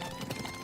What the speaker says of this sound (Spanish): muy pronto se mezcló con el repicar de los cascos de caballos